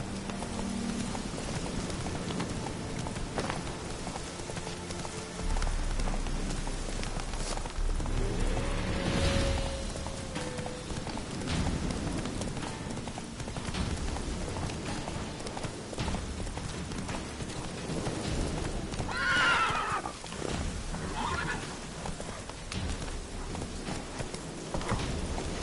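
Roach the horse galloping through rain in The Witcher 3, rhythmic hoofbeats thudding steadily over a wash of rainfall and ambient game sounds, with a few whooshing swells along the way.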